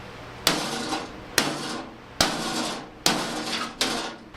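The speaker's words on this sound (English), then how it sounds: "Make sure you use a good, you know, hammer just to tweak the spots." Five sharp hammer taps land one at a time on the body panel of a crashed 1967 Buick GS 340 under bodywork, each ringing out metallically before the next strike.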